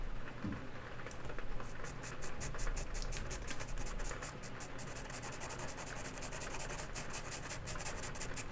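Soft pastel being rubbed across paper with a fingertip for smooth blending, from a wildlife art session: a steady, close, faint scratchy rubbing that runs continuously, with fine repeated strokes and no talk.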